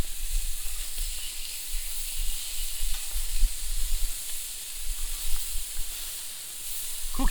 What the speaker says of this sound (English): Oh, that sizzle sounds good.